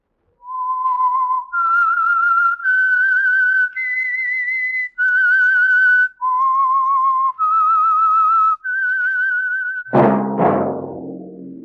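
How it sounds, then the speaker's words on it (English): A lone whistler performs the eerie theme of the 1948 Signal Oil radio mystery The Whistler, a clear, close melody of sustained rising and falling notes with short breaks, ending in a sudden loud orchestral chord. "That whistle is your signal for the Signal Oil program, The Whistler."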